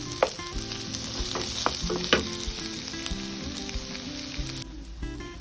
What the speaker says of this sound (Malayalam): ചൂടായ പാനിലേക്ക് വെളിച്ചെണ്ണയോ അല്ലെങ്കിൽ ഏതെങ്കിലും കുക്കിംഗ് ഓയിൽ ഒഴിച്ച് അത് ചൂടായതിനു ശേഷം സവാള ഇട്ട് നന്നായിട്ട് വഴറ്റുക.